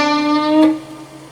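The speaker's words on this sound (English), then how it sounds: "you rest and then hammer 7 and bend it a half step" A single electric guitar note hammered on and bent up a half step, held with vibrato and decaying over about a second in a blues lesson, played alone without talk.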